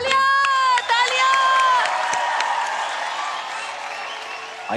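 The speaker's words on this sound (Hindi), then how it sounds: "तालियां तालियां।" A television talent show audience claps and cheers loudly, with shouts and tonal voices rising over a dense crowd roar that slowly settles.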